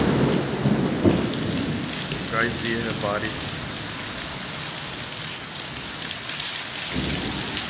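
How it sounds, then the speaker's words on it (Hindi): Heavy rain pours down steadily in a thunderstorm over a town, a dense close hiss with low thunder rumbling beneath it. Someone speaks briefly over the downpour. "बारिश, बहुत ही ज़बरदस्त मौसम।"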